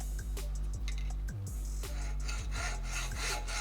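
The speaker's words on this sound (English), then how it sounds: "this is where the hacksaw comes into play" A hacksaw cutting through a trolling motor stabilizing arm, rhythmic back-and-forth rasping strokes, about seven in quick succession, close and loud with no talking.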